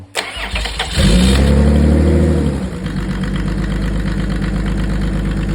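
A Mercedes OM606 diesel engine with a mechanical injection pump, glow plugs preheated, cranks and catches, roaring loudly as it revs up, then drops back to a steady rumbling idle.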